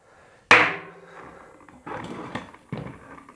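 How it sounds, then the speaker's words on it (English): A tubeless bike tyre bead snapping onto the rim gives one loud sharp pop with a ringing tail, followed by two softer thuds and rustles of handling; no speech. "the tire who pops onto the rim"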